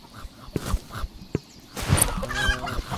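A chicken clucks in the VR game A Township Tale, several short bursts of fowl calls, close and moderately loud, with a busier cluster of clucks toward the end.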